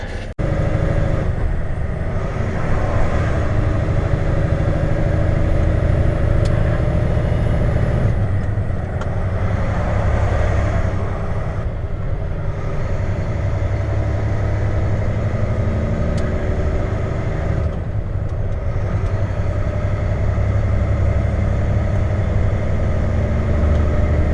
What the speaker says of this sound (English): That's how my truck now sounds. With a horizontal exhaust and a heavy load.